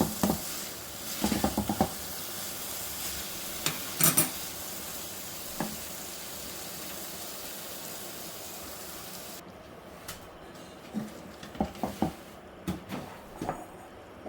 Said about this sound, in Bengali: একটু হালকা হাতে এটাকে নাড়তে হবে।